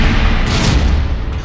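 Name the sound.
explosion blast in Israel-Hezbollah war footage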